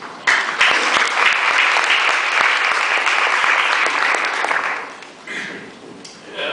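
Sustained applause from a seated audience welcoming a panelist at a legal policy event, dense and steady for about five seconds before thinning into scattered claps.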